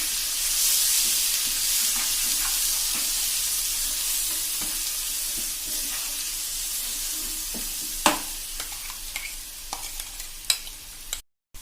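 Onion chutney paste with red chilli sizzles steadily in a pan over a slow gas flame, a continuous close frying hiss with occasional stirring scrapes and clinks.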